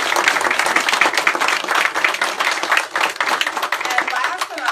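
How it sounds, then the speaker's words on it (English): An audience at a school district evening event gives sustained applause, dense loud clapping filling the room for several seconds with a few voices mixed in. "let's just give them a big round of applause."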